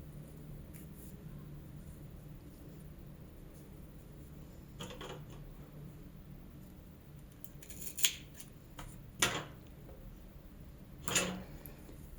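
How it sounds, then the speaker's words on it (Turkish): Scissors snipping off excess yarn from crochet work: a few quiet, crisp separate snips near the end, over a faint, soft background. "Sonra fazla olan iplerimi kesiyorum."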